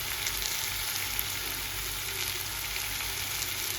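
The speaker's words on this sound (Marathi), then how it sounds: "आणि करूया fry fry fry fry fry. Tomato शिजून घेते" Tomato sizzles in a hot pan in a home kitchen, a steady crackling hiss that stays even throughout with no voices over it.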